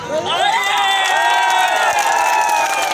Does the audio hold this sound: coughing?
no